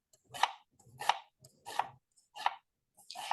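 A knife chops an onion on a cutting board for a fine dice, giving five crisp, evenly spaced cuts, close and clear against a quiet background.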